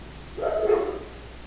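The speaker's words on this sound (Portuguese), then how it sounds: "Cachorrinho maravilhoso" A small dog gives a single short bark, faint and slightly distant, over a quiet indoor background.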